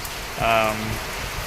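Rain falls in a village during a May downpour, a soft, even patter throughout, briefly overlaid by a short tonal, voice-like sound near the start.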